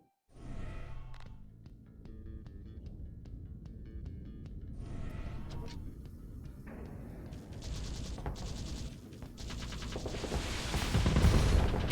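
Missiles and gunfire in a space battle video game, launched against a carrier: a steady rumble of distant weapon fire builds in waves, with bursts of crackling blasts growing louder and denser toward the end, no voices.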